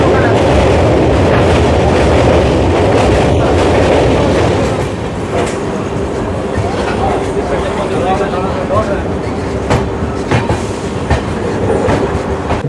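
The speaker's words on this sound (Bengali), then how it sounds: "ছেড়ে দিল আমাদের কলকাতা রাধিকাপুর এক্সপ্রেস তার যাত্রাপথের প্রথম স্টপেজ নৈহাটি জাংশন থেকে" The Kolkata–Radhikapur Express runs out of Naihati Junction at night, loud rolling rumble and rhythmic clickety-clack of the wagons filling the whole stretch, a heavier roar at first easing to a steadier clatter.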